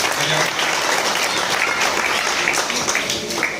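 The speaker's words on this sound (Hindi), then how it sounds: "एक बार जोर से तालियां उनके स्वागत को बजाएं" Loud, dense audience applause welcoming students honoured at a talent search exam ceremony, continuous clapping filling the room without a break.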